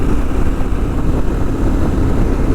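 Steady vehicle engine drone while cruising at 100 km/h and 4,000 rpm on a long road trip through Zambia toward Malawi, a continuous low rumble with wind and road noise, loud and unbroken with no talk.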